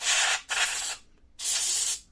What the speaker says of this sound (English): How to clean the CPU fan? I usually use compressed air.